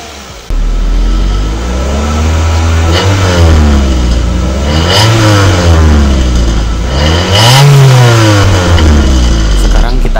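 A first-generation Mitsubishi Xpander engine revs repeatedly on a test drive, loud and close inside the car, with rising and falling pitch sweeps as it accelerates through several gears.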